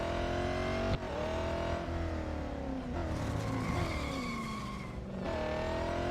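Race car engines roar continuously in Real Racing 3, revving up through gear changes with pitch climbing and dropping, along with tire squeal and passing cars, loud and close with no talking.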